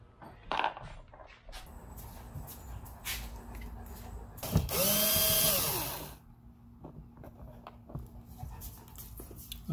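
A power drill backs a screw out of a 2021 Honda Pilot driver door panel; one short, fairly faint whir of under two seconds, with light clicks and handling noises around it.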